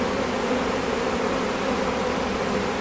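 Bees from a swarm buzz close to the camera, a steady dense insect drone that stays level and continuous with no talking.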